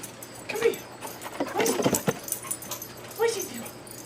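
A dog whines and whimpers in short high yips during an outdoor walk in August, with shuffling movement sounds between the cries and a person speaking softly nearby.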